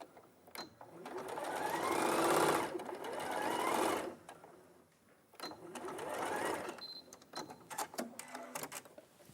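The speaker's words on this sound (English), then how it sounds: "we put that back on the machine, do our 1 centimetre seam allowance" A sewing machine stitches a 1 centimetre seam allowance in two steady bursts of a few seconds each, separated by a brief pause, followed by lighter intermittent mechanical clicks.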